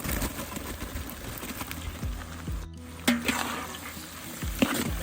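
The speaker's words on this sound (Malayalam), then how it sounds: "ഇനി അതിലേക്ക് നമ്മൾ ഒന്നര കിലോയോളം അരിഞ്ഞു വെച്ചിരിക്കുന്ന സവാള ഇട്ട് കൊടുക്കുകയാണ്" About one and a half kilos of chopped onions dropped into a hot pan of oil for Kerala beef curry, giving a soft continuous sizzle with scattered clatters and scraping stirs, no voices.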